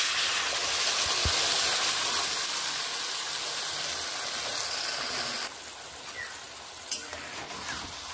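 Mango leather hits a hot pan with fennel seeds and sizzles in a loud, steady hiss that drops suddenly partway through and then continues more quietly, with a few small clicks near the end.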